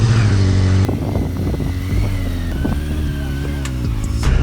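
A Kawasaki 636 motorcycle engine running close by, a loud steady drone with a rev drop near the start and then a continuous throbbing run with small fluctuations, no voices.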